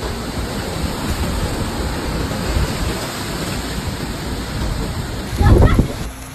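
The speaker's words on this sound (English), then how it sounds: "Chaos reigned throughout the city due to the violent storm." A violent storm in Adana, Türkiye, strong enough to blow off roofs and topple trees, gives a steady roaring wash of heavy rain and wind, with a louder gust surging near the end.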